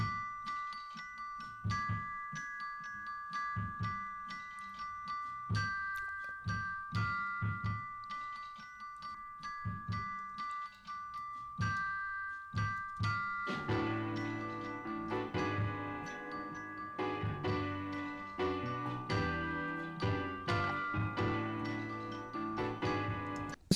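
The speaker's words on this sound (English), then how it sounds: "Let's listen to the piano and the bells." Bell-like chimes ring out over a rhythmic backing in a Motown track, then a fuller piano-driven passage joins in, steady and moderately loud with no voices.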